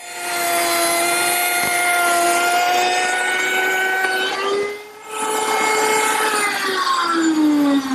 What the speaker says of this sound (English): I'll use my router table to do that. I've set it up with a 1/4-inch slot cutter